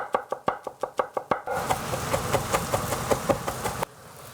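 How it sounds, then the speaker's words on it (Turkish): Knife finely chopping garlic on a cutting board: about eight quick, evenly spaced sharp knocks, close and clear, then a denser stretch of softer chopping and rustle with no talk. "Sarımsakları da yine çok ince bir şekilde doğruyorum."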